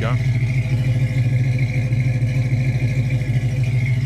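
A 1968 Ford Mustang coupe with the J-code engine and a fairly new dual exhaust idles after starting, a steady throbbing burble close by, with a brief spoken word near the start.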